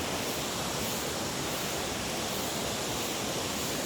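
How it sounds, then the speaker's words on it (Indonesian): A waterfall on a holiday outing gives a loud, constant wash of roaring water that fills the whole short stretch without any break. "Jadi kita udah di air terjun tuh bagus banget."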